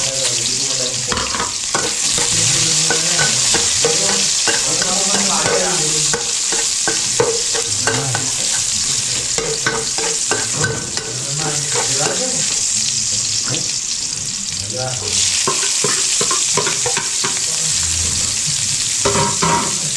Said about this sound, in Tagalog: Tapos ngayon magigisa na tayo.